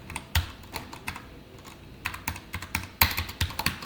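Keys on a computer keyboard clack in quick, uneven bursts, close and crisp, with short pauses between runs of strokes and no voice over them.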